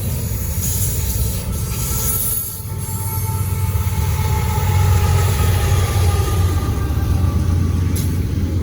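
A Norfolk Southern freight train led by a C6M locomotive rolls past on the Charlotte District in Gaffney, South Carolina, a loud steady rumble of engine drone and rail cars with a faint wheel squeal, no voices.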